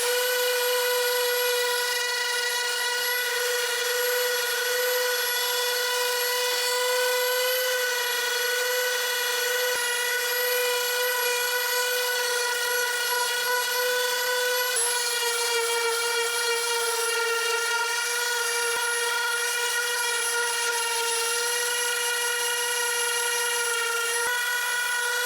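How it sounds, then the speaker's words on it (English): A power sander fitted with 220-grit paper whines steadily and loudly, removing stencil ink from a hand-routed wooden sign, a continuous high tonal drone with a brief pitch shift midway and no talk. "I think I've just got, 220 on my sander here. So it's going to sand all this ink off"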